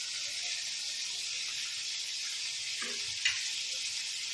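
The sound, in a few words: crushed red chili and black pepper frying in pan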